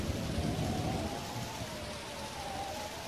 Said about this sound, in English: It's a stormy sea.